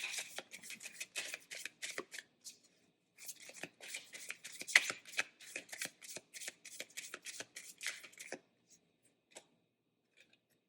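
A deck of tarot cards is shuffled close by in quick riffling bursts of papery flicks, pausing briefly before a second run and trailing off into a few faint taps.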